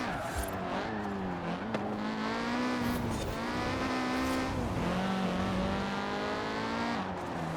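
A 2016 Honda Civic races in Forza Horizon 4, its engine whining in high rising and falling tones through gear changes, with tire squeal and other cars' engines close by throughout.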